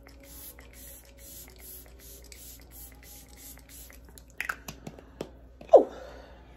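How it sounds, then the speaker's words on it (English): A few quick hissing puffs from a Glow Recipe Watermelon Glow Ultra Fine Mist facial spray bottle, the last one the loudest, with quiet background and no talking. "This is the Watermelon Glow Ultra Fine Mist Spray from Glow"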